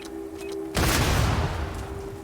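Gunfire in the video game Starfield on very hard difficulty: after a quieter stretch, a sudden loud burst of dense, continuous shooting erupts and keeps rolling without pause.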